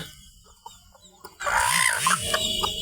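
A native hen with newly hatched chicks, faint peeps at first, then loud rhythmic clucking up close with chick cheeps around it.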